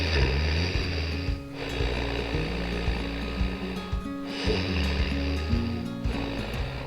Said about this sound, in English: 20 round of Ujjayi pranayama with the sound from the epiglottis